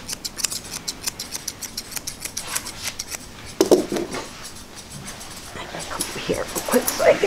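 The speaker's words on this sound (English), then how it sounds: "basically just scissoring with my chunker shear the shape that I want" Chunker shears snip repeatedly through a goldendoodle's coat during grooming, a fast run of close, crisp metallic cuts with brief pauses, alongside faint dog whimpers and panting.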